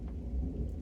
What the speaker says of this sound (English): I don't know if you can hear the thunder in the background.